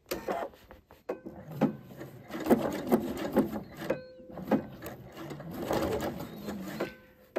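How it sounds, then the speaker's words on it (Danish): A sewing machine stitches a welt pocket in short bursts broken by brief pauses, close and fairly loud, with its needle rattling throughout. "Og så starter jeg lige i min syning"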